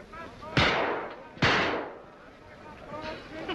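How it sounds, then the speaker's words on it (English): Two sharp, loud gunshots from a pistol or rifle at a shooting gallery crack out about a second apart, each trailing into a short echoing decay, followed by quieter background sounds. "That's nice shooting, mister."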